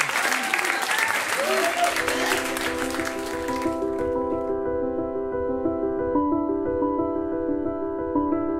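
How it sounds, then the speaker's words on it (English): Audience at a student union debate night applauding the departing candidates, dense clapping that fills the first few seconds then gives way to a sustained musical chord. "please give them a massive round of applause as they exit the stage"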